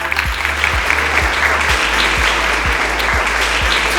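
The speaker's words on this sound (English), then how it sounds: "Can you guys give yourselves a round of applause" An audience at an innovation challenge event gives itself a round of applause: close, dense clapping with a regular low thudding beat running through it for the whole four seconds.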